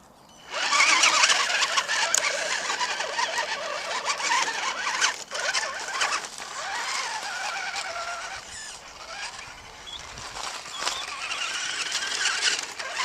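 The electric motor of a Tamiya Mitsubishi Pajero metal-top CC-01 radio-controlled 4x4 whines as the model climbs a slope, a close, high, wavering drone that surges and eases in steady pulses for several seconds.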